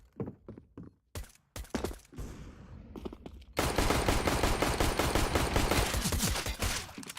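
Rapid gunfire in CS:GO on the Cache map: a few separate shots at first, then a long, loud, sustained burst of automatic fire close to the player.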